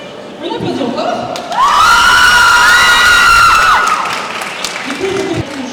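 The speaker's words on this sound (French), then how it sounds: "On applaudit encore." Festival audience at a manga convention contest cheering and applauding, with shouts and a long high whoop rising over the crowd noise, loud and close, then fading near the end.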